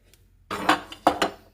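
Spare metal kitchen utensils clink and clatter together in a few quick bursts as they are put away into a lower kitchen cabinet, close and fairly loud.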